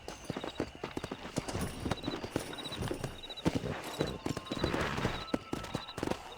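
Steady clip-clop of horse hooves at a brisk ride in Red Dead Redemption on PC, rhythmic and close, with occasional game music tones and faint voices in the background.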